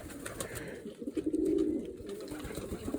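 Pigeons coo inside a dovecote, a cluster of soft, throaty coos close by, rising in the middle of the stretch over low background rustle.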